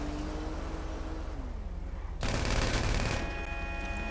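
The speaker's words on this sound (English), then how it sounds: "So if I just start shooting people up randomly, I ought to get the interest of the police" Rapid gunfire in the video game GTA erupts midway as a dense, loud burst of overlapping shots over a steady game background, continuing to the end.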